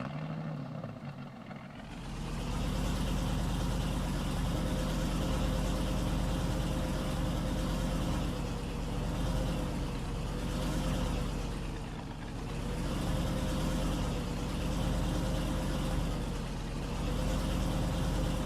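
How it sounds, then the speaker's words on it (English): A John Deere X9 combine in Farming Simulator 19 idles with a heavy, steady diesel rumble that starts up after a short lull and then drones on evenly with slight swells. "X9 John Deere truck combine."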